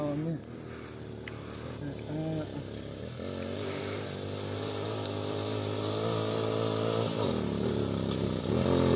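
A motorcycle engine revs close by under steady throttle, its pitch climbing and holding in a loud, continuous drone with rough clatter, while people talk over it.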